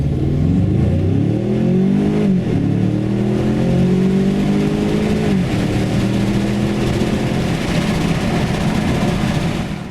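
A Ford Mustang EcoBoost accelerating hard with the automatic gearbox left in D, its engine note climbing and dropping at two automatic gear shifts, then settling into a steady drone, loud and close from inside the cabin.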